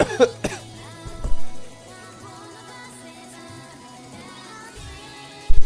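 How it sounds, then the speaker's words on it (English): A sharp burst of coughing up close at the start, then quiet, with another brief cough at the very end. "Oh my days, the coughing is actually getting worse."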